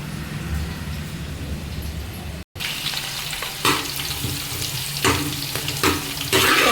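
Green chillies and garlic frying in a pan, a steady close sizzle with occasional stirring scrapes and brief louder bursts.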